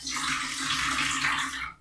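Water runs and splashes steadily into a basin, close and continuous for a couple of seconds before cutting off, with no voices.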